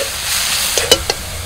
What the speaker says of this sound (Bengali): এই দেখুন শাকটা ভাজা হয়ে গেছে